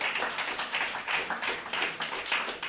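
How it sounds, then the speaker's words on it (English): A crowd at an outdoor political party community night in Castries North claps in a quick, rhythmic patter that sounds faint and distant, with no voices on top. "Give them a round of applause"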